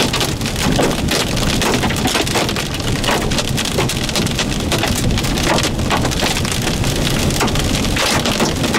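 Dense, steady drumming of rain and hail pelting a car's body and hood during a tornado-producing storm in East Duke, Oklahoma, a loud continuous patter of hard impacts close around the vehicle with no voices.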